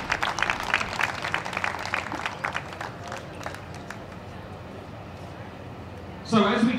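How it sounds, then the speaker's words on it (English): Applause for the sixth-place finisher at a women's trap shotgun final rises as a scattered crowd clapping, thins out within a few seconds, and a voice starts talking near the end. "can we give a round of applause to the confirmed sixth place this afternoon representing China, Dan Wei Yuen."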